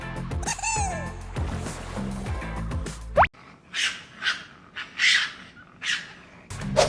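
A raccoon gives a run of five or six short, squealing chitter bursts in quick succession, close and fairly loud, following a few seconds of upbeat music.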